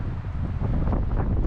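Strong gusting wind on a farm, with sustained winds near 55 to 60 mph and gusts up to 70; a loud, steady roar buffets close to the microphone, swelling slightly stronger in the second half.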